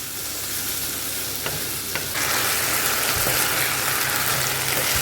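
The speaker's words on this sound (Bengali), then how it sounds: "চিকেন আলু একসঙ্গে দিয়ে কষিয়ে নিচ্ছি।" Chicken and potatoes frying together in a pan, starting as a moderate sizzle with light scrapes, then jumping to a louder, fuller hiss and crackle as ingredients go in and get stirred.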